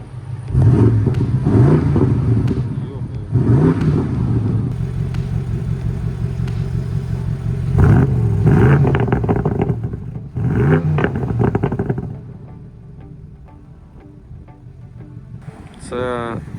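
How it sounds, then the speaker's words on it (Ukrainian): A BMW M850i coupe with the N63TU3 twin-turbo V8 is revved in a series of loud, close bursts that rise and fall, with a steadier idle-like drone between them and a quieter stretch near the end. "Зараз прогазуємо."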